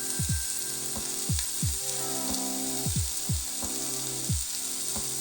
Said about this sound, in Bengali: বাদাম অ্যাড করে দিলাম।